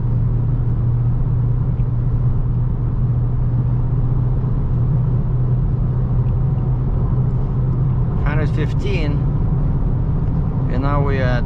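A new Dodge Charger cruises in the highway's left lane at about 104 mph, its low engine and road rumble droning steadily inside the cabin, with someone speaking briefly near the end.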